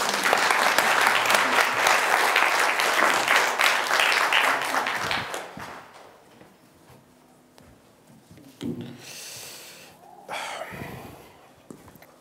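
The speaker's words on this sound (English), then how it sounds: "Give them a round of applause." Congregation applauding loudly for about five seconds before the clapping fades out, followed by a quieter stretch with a few isolated sounds and brief noises.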